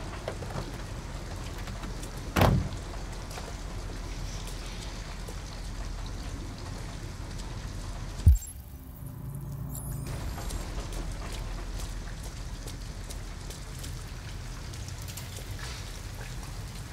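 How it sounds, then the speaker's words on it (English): Steady rain pours down in the video game Detroit: Become Human, a continuous wash of drops with a brief thud near the start and a sharp knock midway, after which the rain sounds muffled for a moment before returning. "At least we'd be out of the rain."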